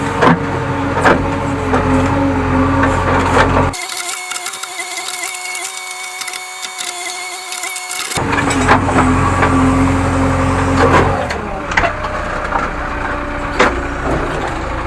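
A JCB 3DX backhoe loader digs a pipeline trench in a watermelon field, its diesel engine running close and loud with hydraulic whine and clanking, the engine note dropping for a few seconds mid-way before it revs back up.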